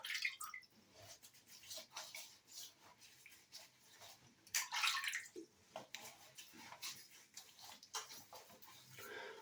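Water splashed by hand onto stubble before a shave with a three-blade Dorco razor, heard as close, irregular wet splashes and drips in a quiet room, with one louder splash burst midway.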